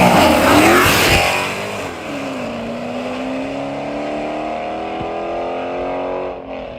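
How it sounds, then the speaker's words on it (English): Dodge Hellcat at the Texas Radial Round Up drag race, roaring loudly and close as it launches, then holding a high, rising engine whine as it accelerates away down the strip. "Hey, it's a Hellcat right here."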